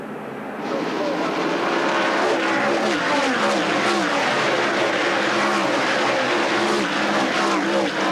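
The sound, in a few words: race cars racing at North Wilkesboro, 1985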